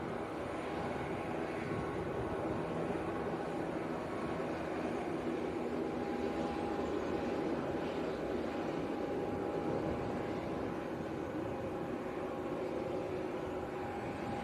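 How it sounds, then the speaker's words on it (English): Wizz Air airliner taxiing at Leeds Bradford Airport, a steady, distant jet engine whine and broadband roar holding even throughout. "So Wiz taking a left onto Alpha."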